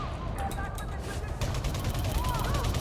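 An enforcer fires rockets in the Ironheart video game, producing sharp blasts and bursts of gunfire over a dense low rumble, with a voice talking throughout.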